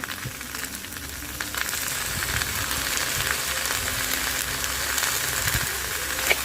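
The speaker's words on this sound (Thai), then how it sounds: "จากนั้นทำการผัดได้เลยค่ะ คลุกเคล้านะคะให้มันเข้ากันค่ะ" Yakisoba noodles stir-fried in a hot pan, a loud continuous sizzle and crackle with faint scraping as the noodles are tossed, no voices.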